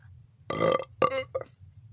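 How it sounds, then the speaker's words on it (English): A person lets out a loud, drawn-out burp after eating a Canadian IMP Indian chicken ration, followed by two shorter burps, all close and alone against a quiet background. "now I've got all sorts of flavours going on in the burps"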